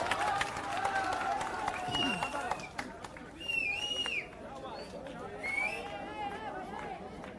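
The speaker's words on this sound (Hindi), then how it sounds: "जोरदार तालियों से स्वागत कीजिए" A crowd at a Jan Suraaj political gathering in Bihar applauds to welcome Prashant Kishor. The clapping is dense and steady throughout, mixed with crowd chatter and voices.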